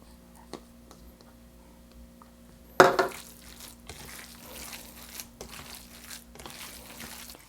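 Lumpia filling mixture stirred after Eden cheese is added for Lumpiang Shanghai: one sudden loud scrape or knock, then steady soft scraping and squishing with light clatter. Quiet, close, and without talk.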